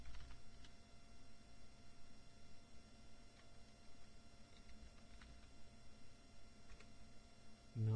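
Typing on a computer keyboard, scattered soft key taps spread unevenly over several seconds, close but quiet against a steady low background hum.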